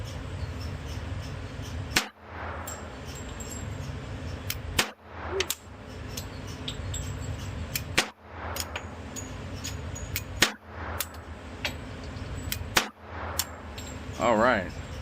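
Shots from a CZ 97 B .45 Auto pistol fired at an outdoor range, sharp loud single reports spaced a couple of seconds apart, each followed by brief quiet, with a voice speaking between them.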